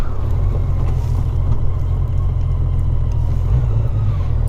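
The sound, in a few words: Honda Rune motorcycle riding through the gears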